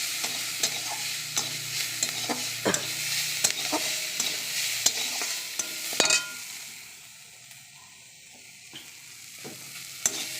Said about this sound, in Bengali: কড়াইয়ের মধ্যে তেলে পাঁচফোড়ন কাঁচা লঙ্কা দিয়ে তারপরে পেঁয়াজ আদা রসুন বেশি দিয়ে দিলাম